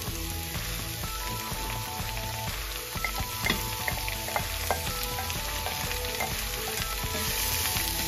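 Onions frying in oil in a pan during preparation of masala bhindi (okra), a steady close sizzle and crackle running throughout with occasional light stirring clinks, no talk.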